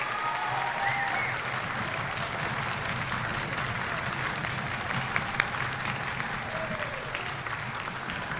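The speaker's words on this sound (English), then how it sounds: "can you just give one more big round of applause for these amazing students?" Warm, sustained applause from a high school winter concert audience for choir and orchestra students, a dense even wash of clapping that holds steady from start to finish without speech.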